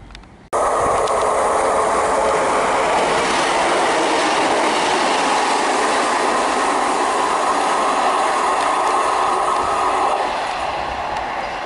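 A train on the Great Western Main Line at Parson Street passes close by with a loud, steady roar and rattle of wheels on rail that stays constant for about ten seconds, then begins to ease slightly.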